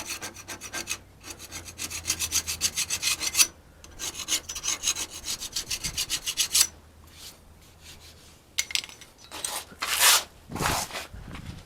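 A file rasps across a rough metal surface on an air bag mount of a 1997 Freightliner FLD truck, in rapid rhythmic back-and-forth strokes, close and fairly loud, pausing between bursts with a few clanks near the end.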